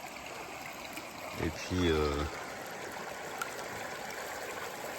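Water trickles and splashes continuously as it is emptied from a gold-panning pan at a stream, with someone briefly speaking partway through.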